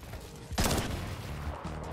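A burst of gunfire erupts in a Fortnite match, a loud broad crack at about half a second that rolls into a sustained noisy barrage over the following second and a half, with no talk over it.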